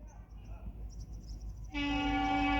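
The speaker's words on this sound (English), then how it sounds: "Fast train is passing." A fast train rumbles nearby as it passes through a station in India, then a loud sustained horn blares, steady and close, over the low rolling noise of the passing train.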